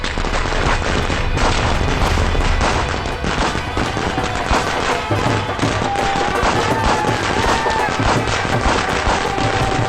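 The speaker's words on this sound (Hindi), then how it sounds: "ये लोग इस तरीके से अपनी शादी का ढिंढोरा पीटने के लिए पटाखे दगाते रहते हैं।" Firecrackers set off for a wedding celebration crackle in dense, continuous bursts at close range, with no clear gaps across the stretch and a faint tonal whine threading through the din.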